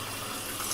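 Regular tap water runs steadily from a faucet to rinse freshly developed black-and-white film at home, a constant close gushing hiss with no pauses or voices.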